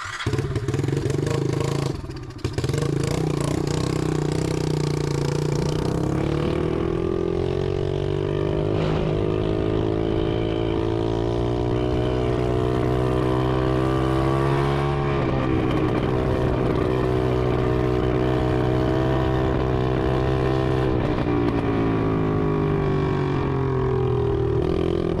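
Loud, close running of an SSR 125 automatic dirt bike engine, holding a steady buzzing idle for about 25 seconds while the pitch swells and falls in several revs, with no voices.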